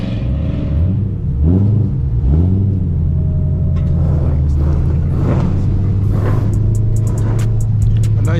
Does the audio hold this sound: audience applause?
no